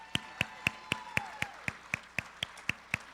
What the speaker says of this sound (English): Let's give the drumline another round of applause.